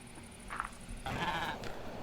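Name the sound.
sheep bleating in Minecraft video game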